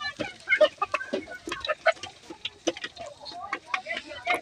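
Desi hens clucking and cackling close by while they peck at stale rice, a run of short, irregular calls one after another, with a few brief chicken cries standing out.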